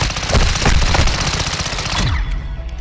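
Rapid bursts of automatic gunfire in a shooter video game, loud and dense for about two seconds before trailing off into fainter scattered shots.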